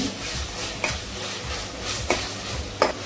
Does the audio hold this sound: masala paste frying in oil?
yes